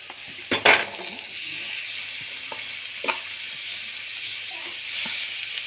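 Chopped tomatoes tipped into a pan of sautéed onions for tomato chutney set off a loud burst of sizzling and a clatter. A steady hiss follows, with a few light stirring knocks and no talking.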